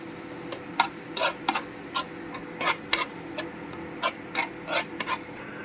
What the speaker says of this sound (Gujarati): થોડા આપણે હવે કાંદા એડ કરી દઈશું. સારી રીતે સાતળી લઈશું એને.